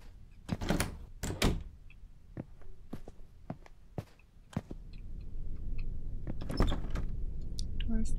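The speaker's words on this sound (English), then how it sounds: "Door's locked." A locked door is tried in the game Red Haze, several hard knocks and thuds followed by rattling clunks. The handle is worked again and again in short, irregular bursts that are close and fairly loud.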